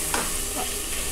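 Chopped onion being stirred and fried on high heat in a pressure cooker, a steady sizzle with brief scraping stirs, close and alone with no talk.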